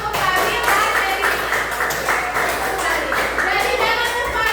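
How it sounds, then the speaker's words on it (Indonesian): Children clap in a classroom for two classmates, a scattered patter of small hands with children's voices mixed in underneath. "Oke, tepuk tangan untuk Fadil dan Dewi."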